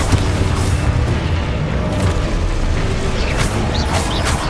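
Expulso explosion spell blast in the Hogwarts Legacy video game: a loud, deep, rumbling boom filling the whole stretch, with crackling debris and a few brighter magical whooshes near the end.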